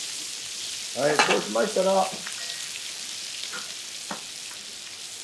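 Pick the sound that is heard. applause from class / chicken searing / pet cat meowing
chicken searing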